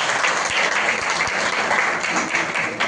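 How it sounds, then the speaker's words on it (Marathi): Steady, loud applause from a crowd honoring the leader of a training program, dense clapping filling the room without pause and no voices over it. "एकदा आपण त्यांच्यासाठी जोरदार टाळ्या दिल्या."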